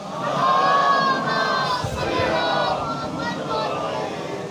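A large congregation at a Muharram majlis in Sialkot chants salawat aloud in unison, a dense roar of many voices rising and falling together, sustained throughout.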